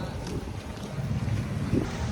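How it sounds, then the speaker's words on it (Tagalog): Strong wind in Bohol roars steadily into the microphone, a dense broadband rush with small gusting swells and no voices. "Malakas ulit yung hangin."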